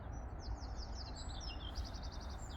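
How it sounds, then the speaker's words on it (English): Several skylarks sing high, twittering phrases at a distance, repeating in quick bursts over a steady background hiss. "I can hear a couple of skylarks."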